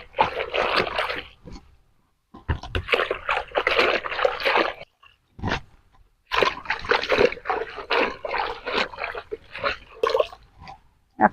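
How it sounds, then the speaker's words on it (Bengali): Sandy leafy greens (saag) are washed by hand in water, with repeated bursts of splashing, sloshing and dripping broken by short pauses, close and fairly loud. "ভালো করে ধুতে হবে, খুব বালি আছে।"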